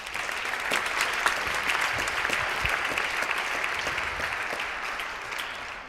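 Sustained audience applause at an integrated care awards celebration, a dense, steady wash of clapping from a large crowd lasting throughout with no talk over it.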